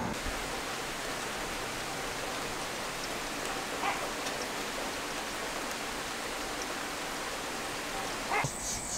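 Rain falls steadily in a garden, a broad continuous hiss of drops on surfaces with a few louder close patters near the end.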